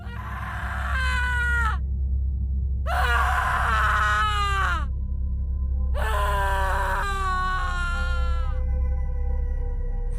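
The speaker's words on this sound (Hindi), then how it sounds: "वो किसी महिला की चीख जैसी थी," Three long, wavering high-pitched scream-like cries with warped, bending pitch, separated by brief pauses over a constant low hum.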